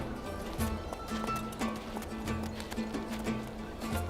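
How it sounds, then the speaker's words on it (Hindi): A ridden horse's hooves clip-clop in a steady, rhythmic beat on the ground, moderately close, with continuous outdoor background noise. "देखो तो जरा कितने मजे से घुड़सवारी कर रहा है"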